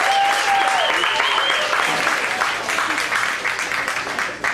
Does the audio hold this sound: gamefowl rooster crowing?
no